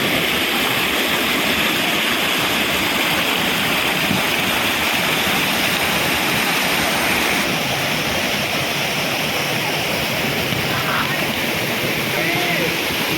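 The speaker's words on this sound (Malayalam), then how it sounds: "അതിൻ്റെ മുമ്പിലൂടെ ഒഴുകുന്ന വെള്ളം" Water flows steadily past the front of the Aruvikkal Sree Shiva Subrahmanya Swamy temple in Kalathoor, a continuous loud rushing wash that holds without pause throughout.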